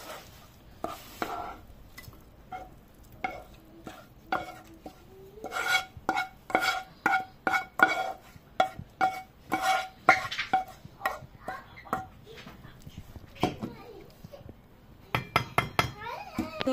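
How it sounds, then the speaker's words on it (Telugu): Spicy red chilli chutney in Rayalaseema style is spooned from a pan into a serving bowl, with a series of close, irregular metallic clinks and scrapes of spoon against cookware. "ఇప్పుడు నేను సర్వింగ్ బౌల్లోకి తీసుకుంటున్నాను."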